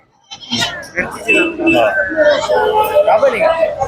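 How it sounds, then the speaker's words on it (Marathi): Goats bleat amid the bustle of a busy livestock market at Loni in Maharashtra, with several wavering cries overlapping loud nearby talk throughout. "भारी क्वालिटीची शेळी आहे"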